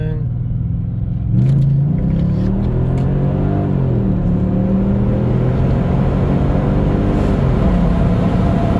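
A 1999 Mercedes CLK430 is punched hard from about 20 mph, its engine note climbing loudly and continuously through the gears in close, solo, in-car sound.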